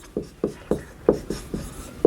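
Short, regular pen or chalk strokes scratch out a math solution during an exam lesson, about eight crisp rubbing bursts in quick rhythm, close and clear with no talking.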